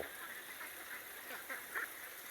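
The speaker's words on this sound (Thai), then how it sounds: "บรรยากาศฟาร์ม เป็ดนะครับฟาร์มเป็ดน้ำเชียงห้าบาท" Laying ducks on a duck farm call faintly, with a few honking quacks rising over a steady background hum of the farm.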